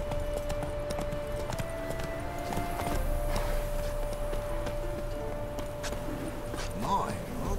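Hooves of the horse Roach clip-clop at a trot through the town of Novigrad in The Witcher 3, a steady rhythmic clatter under game ambience.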